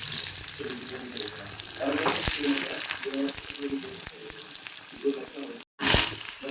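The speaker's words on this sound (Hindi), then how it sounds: "जीरा का फोरन के बाद तेल हो चुका है गरम, इसमें डालते हैं कटा हुआ छोटा छोटा प्याज और हरी मिर्च।" Chopped onion and green chilli hit hot oil after a cumin tempering for Puliyogare tamarind rice, giving a steady close hiss and crackle that runs on with a short dip near the end, while a voice talks over it.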